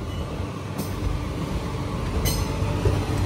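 An Andaman Express train hauled by a high-rise pantograph electric locomotive runs steadily along the track, with a constant rumble of the wheels and two brief metallic squeals partway through, and no voices.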